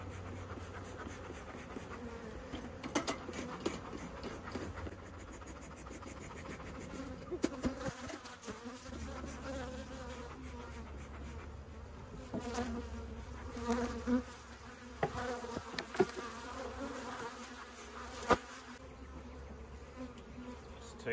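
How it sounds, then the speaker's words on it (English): Honey bees swarm and buzz around an opened hive, a steady close droning hum with occasional louder passes near the ear and light handling knocks. "These are mean bees."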